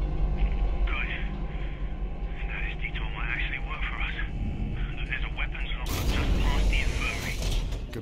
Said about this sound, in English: Found the elevator.